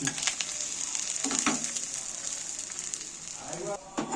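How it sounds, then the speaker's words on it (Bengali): Pointed gourd frying in oil in a pan gives a loud, continuous crackling sizzle close up, with brief stirring or scraping bursts breaking through the hiss. "এবার আমি ফের ভেজে নিচ্ছি"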